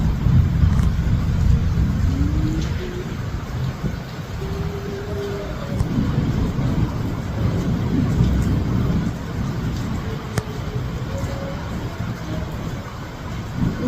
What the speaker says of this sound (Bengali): মেঘে ডাকতেছে, আরো দূরে যেতেছে।